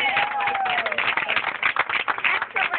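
Audience clapping at a show's finale, dense and continuous applause with crowd noise and voices mixed in, moderately loud throughout.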